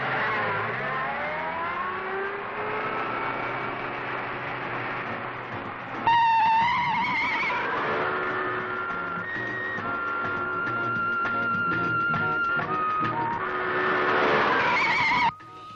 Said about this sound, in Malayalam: എന്താ വണ്ടി നിർത്തിയത്?